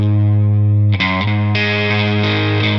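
Electric guitar played through an EarthQuaker Devices Aurelius Tri-Voice Chorus pedal, loud and sustained chords with a shimmering, distorted chorus texture, changing chords about a second in and again shortly after, with no talking.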